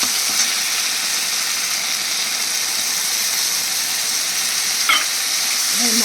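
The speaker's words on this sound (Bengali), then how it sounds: "এবার আমি এর মধ্যে দিয়ে দিচ্ছি কিছুটা জল।" Water goes into a pan of spice paste made with coriander and Kashmiri chili powder for a fish curry, raising a loud, dense, continuous sizzle with one brief clatter of a utensil near the end.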